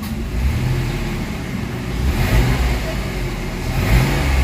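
A Mitsubishi Mirage with throttle delay and low power idles and then revs in short surges. The engine sound is a loud, steady drone that swells a few times. Someone talks over it.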